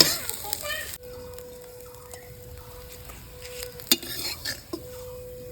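Cauliflower leaves are stirred and fried in a pan, giving a quiet, low sizzle with scattered scrapes and light utensil clinks, plus a faint steady hum in the background.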